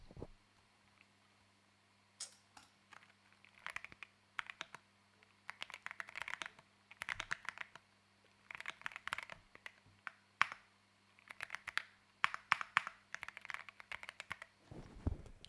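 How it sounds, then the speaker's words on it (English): Clicky keystrokes on a mechanical keyboard come in quiet irregular bursts of rapid typing with short pauses, close and alone in a hushed room. "It's a mechanical keyboard. Let me show you the sound."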